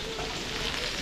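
Garlic and onion fry in hot oil at the start of a kare-kare sauce, a steady close sizzle holding evenly throughout.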